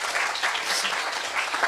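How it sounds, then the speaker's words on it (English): Conference audience applauding government ministries at a digital health and AI event, a dense steady wash of clapping sustained throughout the short span with no talk over it. "I think this deserves also applause for the ministries."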